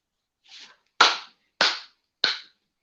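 A slow clap: four to five sharp, loud, isolated handclaps spaced about half a second apart, close and dry with silence between them.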